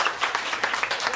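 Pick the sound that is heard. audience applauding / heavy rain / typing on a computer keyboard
audience applauding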